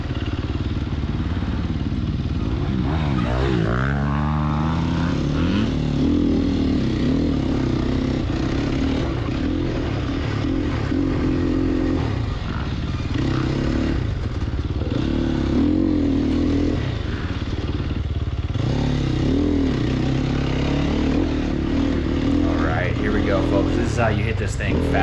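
A Sherco 300 SEF dirt bike engine in a racing video game on a country track drones loudly throughout, rising and falling through revs and gear changes while someone talks over it.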